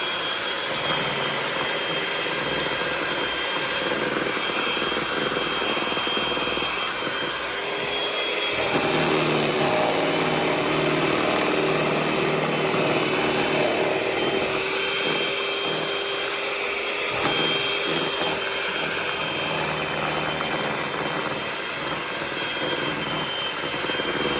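A small electric hand mixer beats Jamaican fruit cake batter (rum black cake), a steady loud whirring drone running nearly the whole time, its pitch and load shifting slightly as it works the thick mixture, with no talking.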